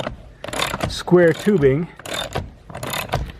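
A wrench ratchets against a Loctited bolt threaded into a nut welded onto a dirtboard hanger. Close, choppy mechanical clicking and clunking is mixed with someone talking.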